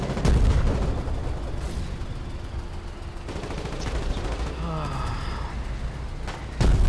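Sharp gunshots crack at the start and again near the end of a battle in the video game Foxhole, over a constant rumbling war din, with faint voices in the mix.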